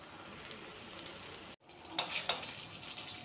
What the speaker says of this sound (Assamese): এনেকৈ খালি ভাজিলে বেঙেনা ধুনীয়া মৰমৰীয়া হয় আৰু খাবলৈ বহুত সোৱাদ লাগে।